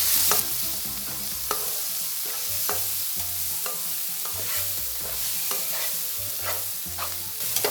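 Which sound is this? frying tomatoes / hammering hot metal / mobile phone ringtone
frying tomatoes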